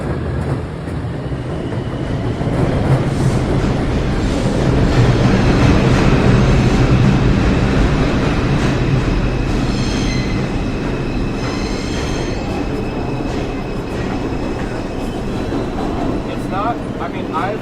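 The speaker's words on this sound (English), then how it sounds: "And there's our train now." A subway train rumbles loudly and continuously into the Astoria Boulevard station in New York, with metallic screeching and clatter building as it pulls in.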